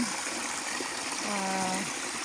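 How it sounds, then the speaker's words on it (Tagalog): Irrigation water runs on a farm in Lania village, Cyprus, a continuous rushing gush close by, with a brief faint voice-like tone rising over the flow. "Ito naman yung tubig. Ito ang huling patubig namin"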